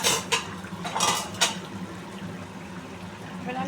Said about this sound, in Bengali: এবারে দেখো আমি ঢাকনাটা খুলে দেখবো আমার মাছের ঝোল হয়ে গেছে